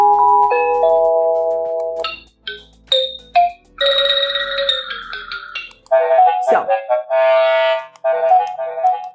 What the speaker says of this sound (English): So this one is gonna ring the bell inside of your house.